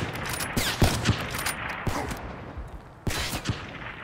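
Gunfire in a multiplayer shooter match: scattered bursts of shots at moderate loudness, with sharp cracks clustered early and a renewed volley near the end over a steady background din.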